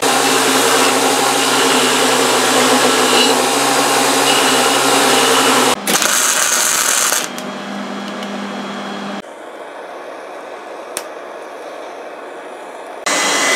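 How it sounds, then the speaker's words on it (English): A bench grinder cleans up the edge of a steel tong piece in a forge shop, a loud steady whine and grinding roar that shifts in pitch as contact changes, then drops to a quieter, lighter grind. "I'm going to clean up this edge a little bit on the grinder"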